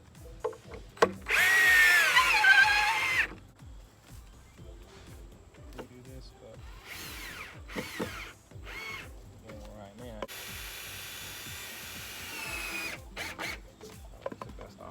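A power drill whines in several bursts while driving screws into wood for a raised garden bed, the longest near the start, with pauses and quiet tool handling in between.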